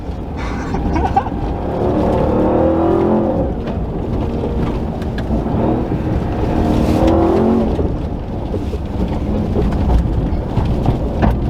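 A TRX Cloverfield truck drives off-road with a loud, continuous engine roar that swells and eases with the throttle, the rumble and road noise filling the whole stretch.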